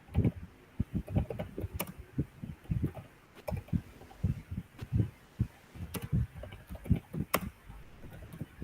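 Someone types on a computer keyboard, a quick irregular run of close, crisp key clicks with brief pauses and no talking.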